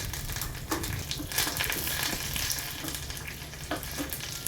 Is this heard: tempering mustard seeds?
yes